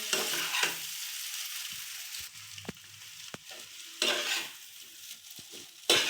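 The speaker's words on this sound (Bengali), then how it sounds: "বন্ধুরা, আমার চাউ চাউটা দেখো ভাজা হচ্ছে।" Chow mein noodles sizzling and frying in a hot pan, with intermittent stirring scrapes and a few sharp utensil clicks against the metal.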